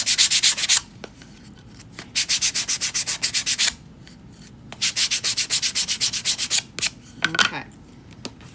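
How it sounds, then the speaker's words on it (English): Chalk-painted furniture is sanded by hand to distress it, in quick back-and-forth rasping strokes that come in three separate runs of rhythmic scrubbing with pauses between, close and fairly loud. "when you use the chalk to paint with, it is so easy to sand. I love doing a little distressing on this."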